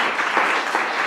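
A church congregation applauds the Lord during a French-language worship service, a dense, steady wash of clapping from many hands filling the whole moment without pause.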